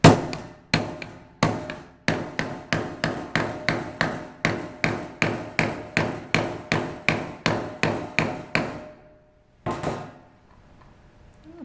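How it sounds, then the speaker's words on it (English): Welding slag hammer striking an Auxbeam LED light bar lens in a torture test: about twenty sharp, evenly spaced hard knocks in a steady rhythm, close and loud, then stopping with a short quiet gap and a final impact. "How about the old welding slag hammer?"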